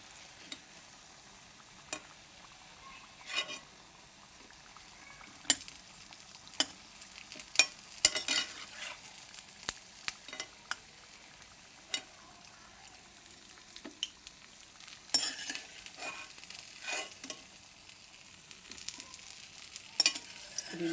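Vadas frying in oil in a pan give a soft, continuous sizzle, broken by occasional scraping stir sounds and light clinks, fairly quiet and close, with no talking.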